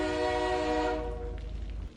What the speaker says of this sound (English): Could have sworn you just heard a train horn.